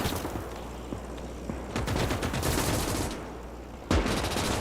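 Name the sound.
machine gun fire in Call to Arms - Gates of Hell: Ostfront video game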